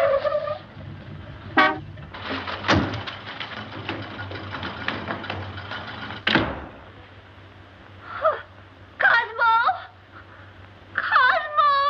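A car horn honks outside in a 1941 film scene, with sharp toots and a longer blare mixed with music and a low hum, and short bursts of talk between them.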